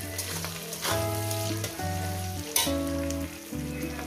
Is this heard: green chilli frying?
yes